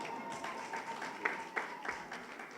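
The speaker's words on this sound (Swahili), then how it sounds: "Wacha tupigieni makofi jamani." Audience applause at a public event tied to the Miss World pageant in Tanzania, a steady mid-level patter of many hands clapping with a few sharper peaks.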